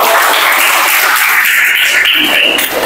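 Classroom applause during a lesson on AI, dense clapping from a group of students, loud and close, sustained throughout and easing slightly at the end.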